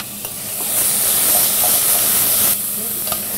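Vegetables sizzle in hot oil for a vegan walnut lasagne with a close, steady hiss and soft spatters. The sound is loud and brief.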